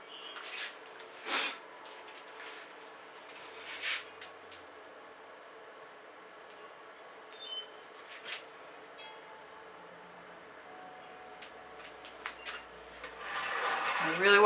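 Leftover acrylic pouring paint is scraped off a canvas in a few short, separated rasping strokes, quiet and close, building to louder scraping at the end.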